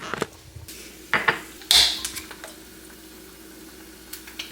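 Eggs fry in oil in a pan in a home kitchen, a soft steady sizzle running beneath several sharp metallic clinks and scrapes of a utensil against the pan.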